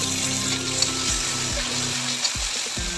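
Tomatoes hit onions already frying in a pan, producing a steady, loud, close sizzle with occasional stirring scrapes throughout.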